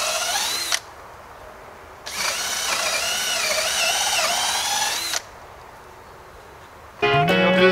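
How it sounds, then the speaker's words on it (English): A power drill bores through a swing assembly in bursts, a loud whining motor running about one second, then three seconds, with pauses of near silence between, and a final grinding spin at the end. "then you can just drill it all the way through"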